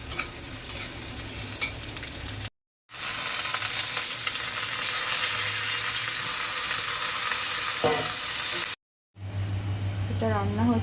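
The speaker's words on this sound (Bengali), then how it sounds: "এটা রান্না হচ্ছে বেগুন ঝাল" Eggplant curry (begun jhal) fries in a pan with a loud, steady sizzle and occasional stirring scrapes, cut off briefly twice, while voices talk nearby.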